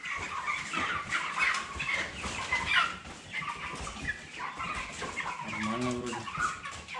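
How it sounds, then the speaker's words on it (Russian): A flock of broiler chickens clucks and chatters steadily in a poultry house, a dense layer of overlapping close-by calls that continues throughout. "Вот сидит курочка."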